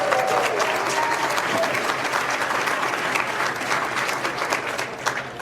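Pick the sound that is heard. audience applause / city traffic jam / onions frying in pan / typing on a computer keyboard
audience applause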